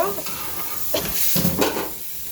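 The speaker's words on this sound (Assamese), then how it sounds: "কেৰাহীতে দালিটো বহাইছোঁ।" Lentils (dal) cooking in a wok give off a steady, close hiss and sizzle, with a few brief scraping surges midway.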